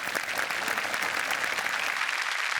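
A television studio crowd at the Marathi comedy program Chala Hawa Yeu Dya claps warmly for an arriving guest actress, a continuous, even wash of many hands at moderate loudness, no speech over it.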